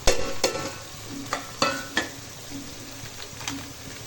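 Turmeric and chilli powder frying with tomato and brinjal for a chutney in a pan, with a few sharp stirring scrapes and clinks over a steady soft sizzle, close and alone.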